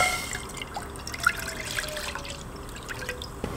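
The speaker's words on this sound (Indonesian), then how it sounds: "Dan kemudian tuangkan susu segar." Fresh milk is poured into a pan for making fried milk, a quiet, close trickle with small drips and splashes that keeps going with slight ups and downs in level.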